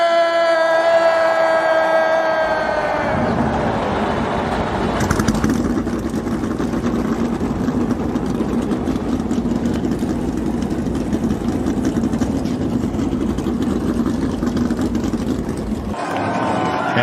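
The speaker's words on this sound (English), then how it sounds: "drivers, start your engine!" NASCAR stock car engines fire up together at the 2024 Daytona 500, a loud, dense roar that swells and holds steady for several seconds after a brief tonal intro, then cuts off abruptly near the end.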